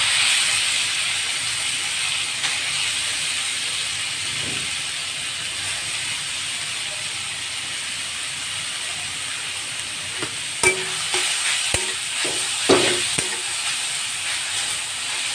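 Carrot sizzles in a hot pan as a sweet filling for patishapta is prepared. A steady, close frying hiss runs throughout, joined near the end by a few sharp scraping clicks of stirring.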